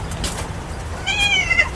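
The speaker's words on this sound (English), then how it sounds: "I've got another cat coming past here." A feral cat gives a short, faint meow outdoors beside a running route, the cry rising late over steady background hiss from wind and movement.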